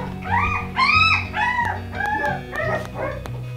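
Several puppies under four weeks old whimper and yip in high, wavering cries that overlap one another, close and fairly loud.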